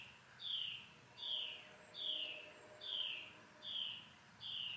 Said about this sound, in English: I think there's a bird in there